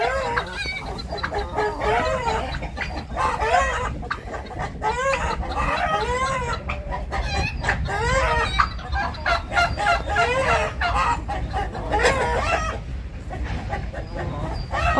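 Farmyard turkeys squabble in a backyard flock, a busy run of overlapping gobbles and squawks that rises and falls in loud bursts, with other fowl calling among them.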